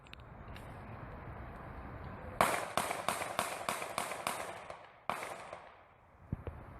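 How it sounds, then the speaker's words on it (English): A police officer fires eight shots at a fleeing suspect, a rapid volley of sharp cracks followed by a final shot after a short pause, heard at moderate distance with no talk over them. "Eight shots fired at the suspect who had turned his back"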